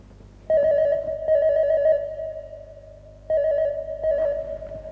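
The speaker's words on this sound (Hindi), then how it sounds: "अनीता, मैं जानता था कि तुम्हारा फोन जरूर आएगा।" A telephone rings indoors, two bursts of a steady electronic bell tone separated by a short pause, clear and close with no talk over it.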